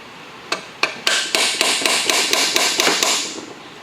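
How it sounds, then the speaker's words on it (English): Repeated sharp metallic impacts, about a dozen strikes in quick succession, each a hard slam of a slide hammer's sliding weight against a stop while pulling a part from a Ford 4R100 transmission, close and loud. "So I'm going to try to see if I can get my slide hammer in here and pull on this"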